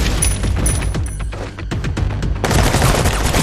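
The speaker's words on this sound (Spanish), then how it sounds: "Tras un tiroteo" Loud, dense gunfire from a film shootout, rapid overlapping shots and bursts with booming impacts, briefly thinning before a heavy volley resumes.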